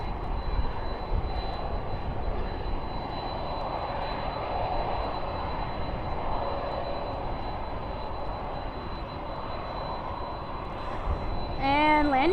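A jet airliner roars steadily during takeoff at Dallas/Fort Worth airport at night, a broad, loud engine rumble that holds throughout, with a faint whine rising near the end.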